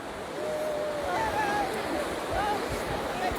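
Sea waves washing ashore at Westward Ho! beach, a soft continuous surf wash under wind, fairly faint and distant, with faint voices in the background.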